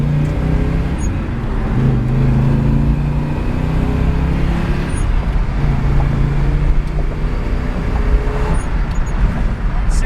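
A 1972 Chevrolet Chevelle accelerating out of a parking lot, its engine a steady heavy low roar heard from inside the car, loud and continuous with rising tone and road noise throughout.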